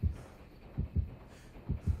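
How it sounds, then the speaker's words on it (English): Low, thumping heartbeat signalling a nearby killer in the horror game Dead by Daylight, with paired double beats repeating at a steady pace, alone and fairly quiet. "I hear heartbeat, and that worries me"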